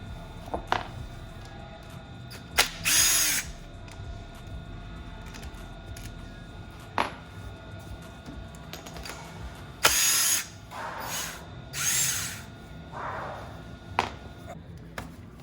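A power drill backs screws out of a Brembo hydraulic clutch slave cylinder on a motorcycle. Several short whirring bursts are separated by quiet pauses and light mechanical clicks, close by, with no voices.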